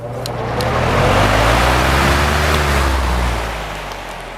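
Lakewood 18-inch high velocity fan with a Samsung PSC motor starting up: a low motor hum and rushing airflow swell as it spins up, hold at a loud, broad roar, then ease slightly, with no talking.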